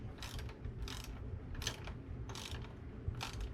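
A tie-down being tightened by hand, turned with four fingers: a close ratcheting clicking that comes in four or five short bursts separated by brief pauses.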